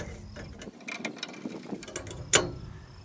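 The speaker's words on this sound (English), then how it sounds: "Your 13 spanner, shifting spanner. Tighten up your nut and bolts." A 13 spanner and a shifting spanner tighten nuts and bolts while assembling a 1.8 m Olympus Flower solar cooker: scattered close metallic ratcheting clicks and light rattles, ending in one sharper clank near the end.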